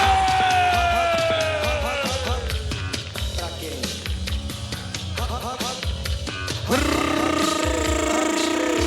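Lively crowd at a bull-riding rodeo in Volta Redonda, Rio de Janeiro, yelling and cheering loudly throughout, with an announcer's voice and arena music mixed in and a sudden swell near the end.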